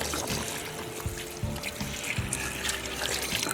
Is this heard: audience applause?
no